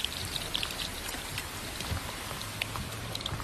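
Heavy rain pours steadily in a flood-damaged neighborhood, a dense continuous hiss with scattered close drops striking surfaces, no voices.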